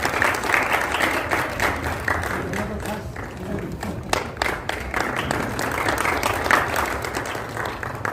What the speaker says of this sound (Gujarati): જોરદાર તાળીઓથી બિરદાવીએ મિત્રો